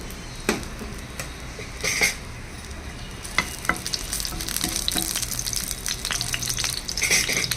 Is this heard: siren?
no